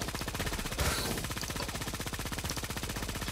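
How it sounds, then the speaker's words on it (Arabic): Rapid automatic gunfire in the shooter game Creative Destruction, fast continuous bursts of shots with a strong steady rhythm, loud and close throughout. "كان في اتنين بيضربوا على بعض هنا"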